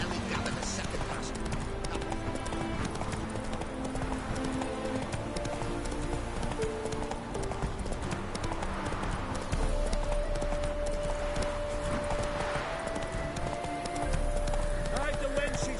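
Roach, Geralt's horse in The Witcher 3: Hearts of Stone, trots with steady hoof clip-clops under continuous speech and game music, the hoofbeats moderately close.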